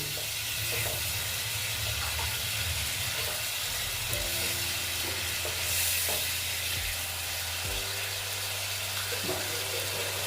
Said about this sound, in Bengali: একটু জল দিয়ে এটাকে আবার আর একটু ভালো মতো ভেজে নিচ্ছি